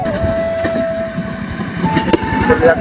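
A train approaching along a railway line, heard close with a steady rumble of wheels and rhythmic clacking, a sustained whistle-like tone and a few sharp metallic hits.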